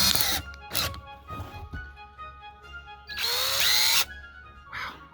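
A power drill with a 1 1/8 inch bit bores into a 1.5 inch pipe: several short whining bursts at the start, then one long loud run that shifts pitch as it cuts, and a faint final blip.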